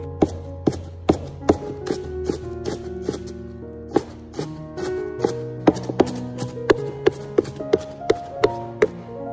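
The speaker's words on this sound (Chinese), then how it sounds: "先把它切成小条， 然后再切成葱花，" A knife chops spring onion into small pieces on a board, sharp, evenly spaced taps repeating steadily at close range, with faint background music underneath.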